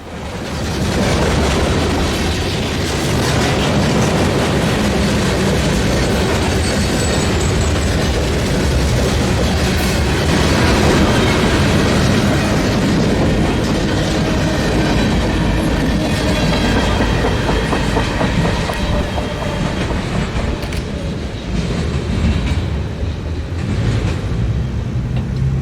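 Freight train cars on the Norfolk & Western Roanoke District near Troutville, heard from alongside as they roll past in fall, a loud, continuous rumble with steady clickety-clack of wheels over rail joints lasting the whole stretch, no talk.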